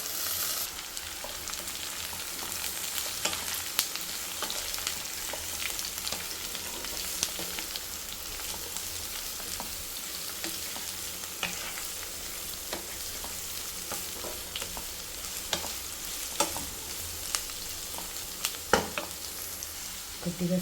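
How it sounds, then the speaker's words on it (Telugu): Chopped beetroot fries in a pan with a steady, close sizzle, broken by frequent clicks and scrapes as it is stirred, with no talking. "కట్ చేసుకున్న బీట్రూట్ కూడా వేసేద్దాం."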